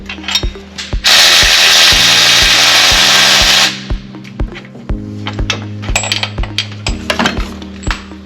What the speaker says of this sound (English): I'm just removing the transmission bolts that are left on here